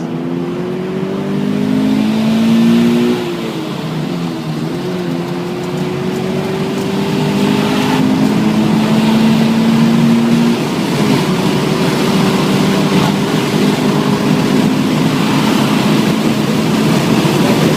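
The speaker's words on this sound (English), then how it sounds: "Get on the throttle, full throttle." Subaru BRZ at full throttle on the Infineon race track, a sustained loud engine drone with rising and shifting pitch as it accelerates, heard from inside the car with no talking.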